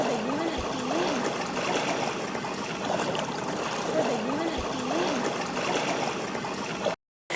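Fresh water from a spring in Israel trickles and gurgles steadily at close range, a continuous burbling wash that cuts out abruptly for a moment near the end.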